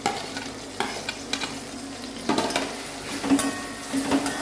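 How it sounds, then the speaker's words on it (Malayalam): Tapioca fries in ginger-garlic paste in a pan with a steady sizzle, punctuated by repeated scraping stirs of a spoon against the pan, close and alone. "ഇഞ്ചി വെളുത്തുള്ളി പേസ്റ്റ് കൂടെ ഇതിലേക്ക് കപ്പ ഇട്ട് കൊടുക്കും"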